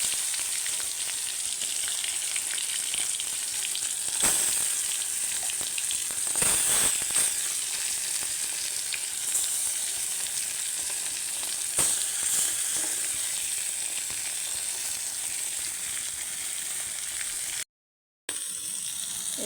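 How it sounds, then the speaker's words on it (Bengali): Prawns fry in a pan with a steady, close sizzle and crackle, with occasional louder spits and stirring scrapes, until a brief dropout near the end. "একদম লাল করে চিংড়ি মাছগুলো ভেজে নেব।"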